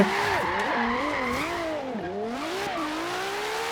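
A LaFerrari hypercar drifting in Forza Horizon, its engine wailing and shifting pitch as the tires squeal and skid through a continuous slide, loud and close with no voices.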